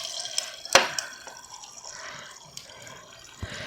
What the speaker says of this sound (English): And then I'm going to fill it with filtered water.